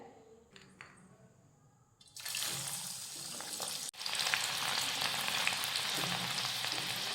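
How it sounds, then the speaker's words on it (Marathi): Dal frying in hot oil in a kadhai, a steady dense sizzle that starts suddenly as the lentils go in and then holds loud and continuous close by, with faint stirring. "डाळ तळण्यासाठी कढईत तेल गरम करत ठेवलेलं आहे आणि तेल व्यवस्थित आपलं गरम झालेलं आहे तर आता आपण ही डाळ तळून घेऊयात"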